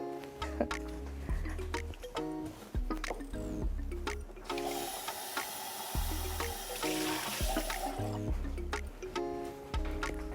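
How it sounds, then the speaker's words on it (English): Water splashes and trickles into a spicy jollof rice base, a steady run of wet, sloshing sounds, close by, with a brief hiss in the middle and no talking. "Okay, so I'm going to add some water."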